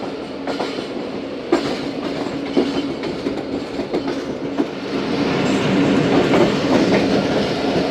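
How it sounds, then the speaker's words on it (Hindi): Awam Express passenger train running through Deraa Nawab Sahib station, a steady loud rumble of wheels with rhythmic clickety-clack over rail joints, swelling louder toward the end with no talk. "डेरा नवाब साहब पास हो रही है ट्रेन"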